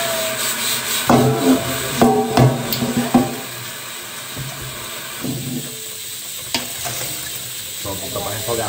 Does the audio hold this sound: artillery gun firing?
no